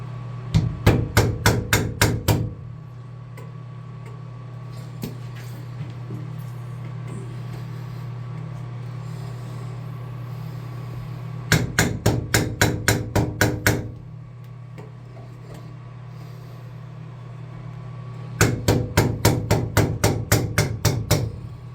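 A hammer taps a stuck Delta shower valve inward in three bursts of rapid, sharp metallic strikes separated by stretches of steady low hum.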